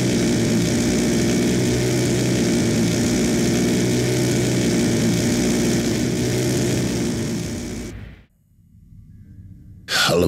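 A VTOL aircraft departing in Call of Duty Black Ops 2 produces a steady, loud engine roar with a low droning hum. The roar cuts off abruptly near the end and returns briefly.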